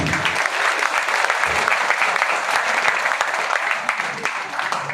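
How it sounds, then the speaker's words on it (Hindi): A seated audience claps loudly and continuously in a big, steady wash of applause that holds at a strong level throughout. "आप लोग एक बार अपने लिए राउंडिंग अप्लॉज कीजिए, जोरदार ताली।"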